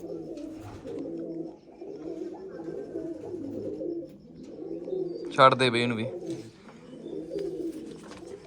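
Large pigeons kept in pairs in a hobby loft coo steadily in soft, repeated, throaty phrases close by. A voice briefly cuts in partway through.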